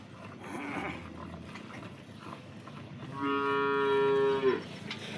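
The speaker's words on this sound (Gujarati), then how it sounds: "તમામ બનાસકાંઠાની લોકલ ગાયો છે" A local Banaskantha cow at a dairy market lets out one long, loud, close moo after a shorter, fainter lowing call, with quiet farm background between.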